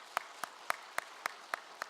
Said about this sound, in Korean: 박수 한번 좀 쳐주시겠습니까?